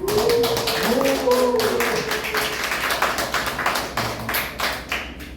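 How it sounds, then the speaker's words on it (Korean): An audience at a senior-life seminar claps to welcome a lecturer, the clapping thinning and growing sparser toward the end, with a voice briefly heard over it at the start. "우리 강사님 나오실 때 뜨거운 박수로 환영해 주시죠"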